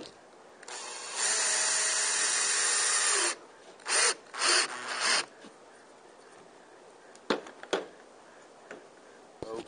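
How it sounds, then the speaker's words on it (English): JB Weld epoxy being mixed by hand, heard as a long, loud scraping and stirring stroke followed by several shorter rubbing bursts, then quieter scattered ticks and taps up close. "I'm mixing up some of the JB weld"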